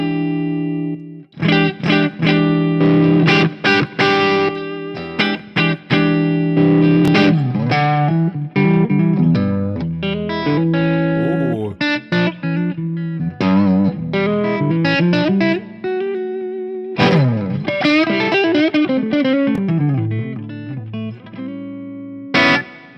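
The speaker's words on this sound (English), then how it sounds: "This is the new Angry Chaka. It is high gain distortion." Electric guitar played through an Axe-FX III on its Angry Chaka high-gain distortion model, with loud, saturated riffs, sustained chords and bursts of single notes broken by brief pauses.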